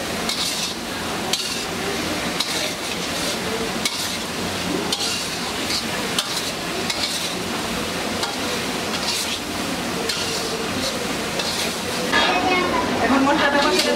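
Spice paste with coriander powder being stir-fried in a pan, with a steady busy sizzle, frequent metallic clinks and scrapes of a spoon against the pan, and a voice talking intermittently over the cooking.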